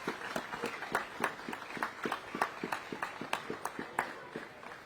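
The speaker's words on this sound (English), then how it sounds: "So just round of applause for St." A small crowd at a junior football final presentation claps for St. Joseph's club, an uneven patter of hand claps that rises and then thins out, fairly distant and moderate in volume.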